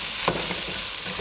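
Food being mixed in a hot sizzling pan, a steady bright hiss of frying with a couple of soft scraping stirs, close and continuous with no voices.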